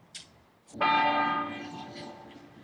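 A church bell in Panama City's old town, on Independence Plaza, strikes once and rings out, its tone slowly fading, after a couple of brief, faint chimes at the start.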